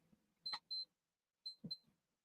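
An alarm goes off in two short bursts of bright, clipped double beeps separated by a brief pause, fairly loud against near silence.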